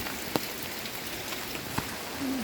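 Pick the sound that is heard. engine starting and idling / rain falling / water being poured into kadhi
rain falling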